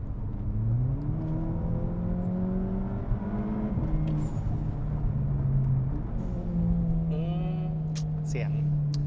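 Volkswagen Scirocco with a stage 3 tuned engine revving under way, its droning tone rising and falling steadily inside the cabin while people talk over it.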